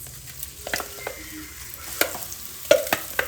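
Hot oil frying in a pan, with a close, steady sizzle and a few sharper pops and clinks of a utensil over it.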